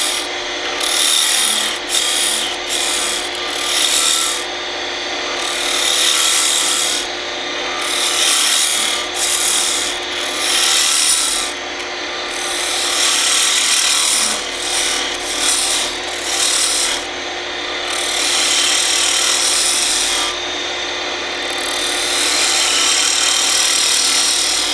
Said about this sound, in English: Now I'll use the roughing gouge to shape the main portion of the body.